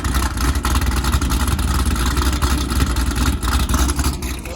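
A car engine rumbles loud and close in a steady, throaty drone, holding its pitch with slight surges as if about to pull away; no voices.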